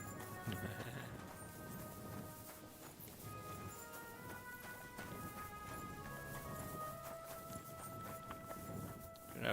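Horse hooves clip-clop at a steady walking pace in a video game, moderately quiet beneath sustained background tones, with no speech.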